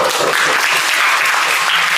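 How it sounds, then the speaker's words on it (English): Steady applause from a group fills the whole moment, dense and close, with hands clapping continuously and no pause. "We need to give them applause."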